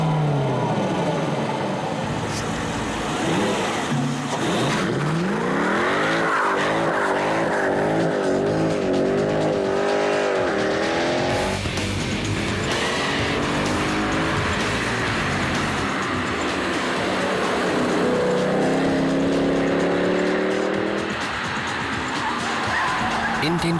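A Mercedes SLK 55 AMG roadster with a V8 engine driven hard on a race track, the engine revving and sweeping up and down through gears continuously and loudly, with a voice talking over it.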